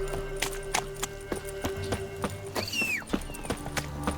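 A horse gallops in The Witcher 3: rapid clip-clop hoofbeats close and steady, with a brief whinny partway through, over a low game background.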